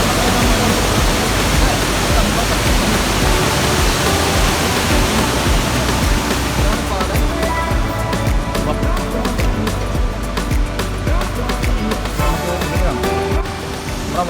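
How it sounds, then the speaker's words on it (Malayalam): A waterfall near Thusharagiri in Wayanad roars close and loud, a dense, continuous rush of falling water that fills the whole stretch without a break. "കുറച്ച് വെള്ളച്ചാട്ടം കാണിച്ചു തരാം."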